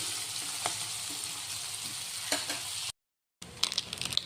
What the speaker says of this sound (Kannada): ಇದು 1 ನಿಮಿಷ ಫ್ರೈ ಆಗಲಿ ಎಣ್ಣೆಯಲ್ಲೇ